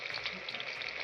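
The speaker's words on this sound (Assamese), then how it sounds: "বৰ্তমান মাছ ভাজিছো" Fish frying in a pan at home gives a steady, close, crackling sizzle with a continuous oil hiss throughout and no talking.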